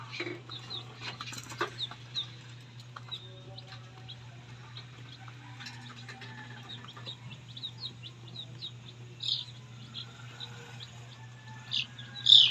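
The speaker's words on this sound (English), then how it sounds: "Chicken?" Chicken clucking in short, scattered calls, fairly faint against a steady low hum, with a few brief chirps and rustles around it.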